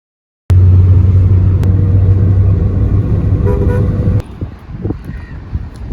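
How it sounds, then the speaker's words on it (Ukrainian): Taxi pulling up to the Zahabia hotel in Hurghada: a steady, loud engine rumble with a low hum and a sharp click, then the engine cuts out, leaving scattered knocks and rustles. "Під'їхали ми на таксі до Загабі"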